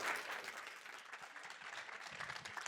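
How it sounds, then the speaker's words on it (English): An audience applauds at a stage event, dense steady clapping throughout, fairly faint and without speech. "A massive round of applause."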